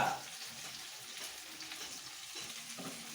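Hot oil sizzles and spits in a pan while frying for a spicy fish curry, a steady crackling hiss with a brief sharper burst at the start and occasional soft stirring clinks, fairly quiet.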